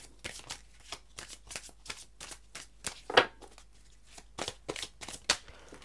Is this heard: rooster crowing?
no